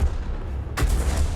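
A tank gun in a World War II-style video game fires a single loud, booming kill shot partway through, set against a steady low engine rumble.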